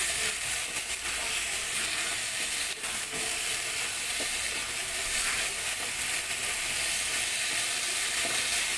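Broccoli stir fry with soy sauce sizzling in a hot pan while being mixed, an even, dense hiss with occasional light scraping clicks, continuous and close with no talking.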